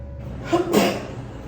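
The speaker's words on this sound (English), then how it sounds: "oops, I had to sneeze a little quick" A single short, sharp sneeze close by, quick and loud against a quiet background.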